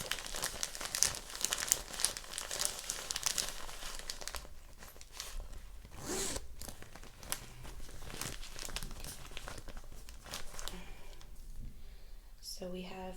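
An Ipsy makeup bag is handled up close with soft crinkling, rustling and rummaging sounds that continue throughout, quiet and intimate, with a zip-like rasp near the end.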